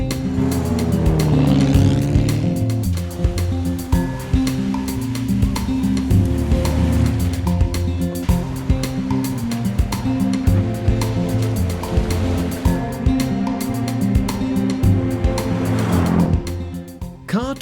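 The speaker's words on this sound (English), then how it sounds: "1935 Riley Sprite TT, crewed by Michele Di Paolo and Livia Laterza" A 1935 Riley Sprite TT rally car driving on a road rally, a steady loud engine drone with shifting pitch and passing road noise throughout, no voices.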